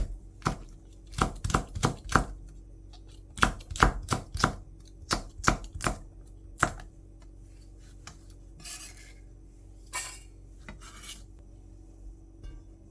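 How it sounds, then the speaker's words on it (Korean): Knife chopping Cheongyang chili peppers on a board, quick bursts of sharp close taps with short pauses between runs, then a few softer scraping sounds, no speech. "청양고추는 취향에 따라 넣어 드세요. 쫑쫑쫑 썰어서 준비해 주고"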